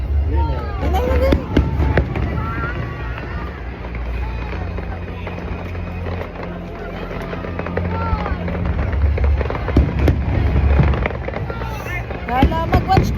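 Fireworks at a pyro musical competition pop and crackle in rapid, continuous bursts with booming low rumbles, heard outdoors alongside nearby chatter and wind buffeting the microphone.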